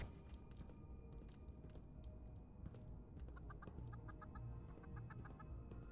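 A chicken clucking in a video game set in a research facility, repeated short clucks over a faint steady background hum, with no talking.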